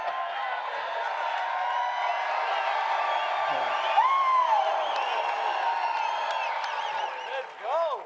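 Crowd at an ESPN MMA press conference with Jon Jones, a steady roar of cheering and whoops with a few sharp whistles and shouts rising over it, loud and sustained throughout.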